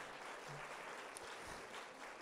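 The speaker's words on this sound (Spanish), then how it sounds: "Otra vez fuerte aplauso." An audience breaks into loud, sustained applause at a business presentation, a dense even wash of clapping from many hands that fills the whole stretch without a break.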